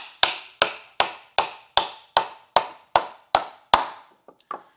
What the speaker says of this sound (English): we'll go ahead, we'll nail up 2 of these